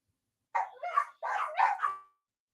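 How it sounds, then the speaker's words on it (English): Two short bursts of dog barking, several quick yips and barks in each, close and loud against silence. "I think that the dogs are barking."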